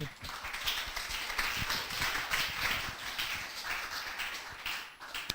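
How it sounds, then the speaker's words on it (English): Workshop audience applauding a student speaker at an informatics event, a dense, close run of many hands clapping that holds steady from start to finish with no voices over it. "just give a great applause for Bapak student"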